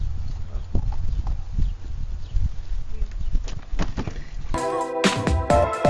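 A horse walks with steady clip-clopping hooves, close and clear, while other sounds come in toward the end.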